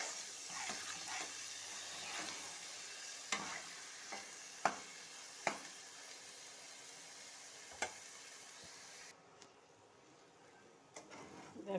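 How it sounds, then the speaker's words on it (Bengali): Rice and khichuri ingredients are stir-fried in a pan, with a steady sizzle broken by repeated sharp spoon scrapes and knocks at an irregular pace. The sizzle drops away near the end, leaving a few faint scrapes. "এবার সব দিয়ে একটু কষিয়ে নেব।"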